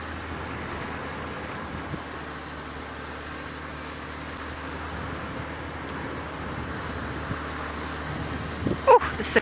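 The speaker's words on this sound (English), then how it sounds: "The cicadas are unbelievably loud tonight." A dense, steady drone of cicadas fills the night air on a safari drive, loud and continuous throughout, with a few faint clicks near the end.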